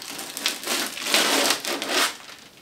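Protective film is peeled off a 2009 midrange gaming PC case, a close crinkling, crackling tear in a few rising bursts over under three seconds, with no talking.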